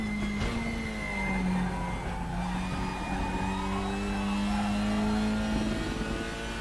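WTCR 2020 touring race car in the RaceRoom video game, a continuous engine drone shifting pitch through gears with steady tyre roar, loud and close, with no talking.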